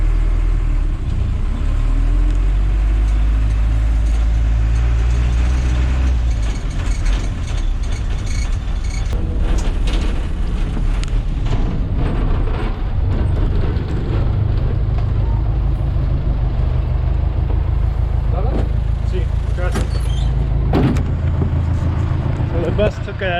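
Ride aboard a passenger van bus in Lima, Peru, with a rumbling engine drone, rattles and clunks of the vehicle body, and traffic around, while people talk.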